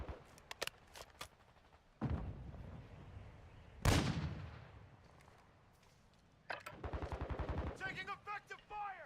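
Video game gunfire comes in bursts: a few sharp single shots, then heavy booming blasts and a rapid run of automatic fire near the end, with a voice speaking between the shots.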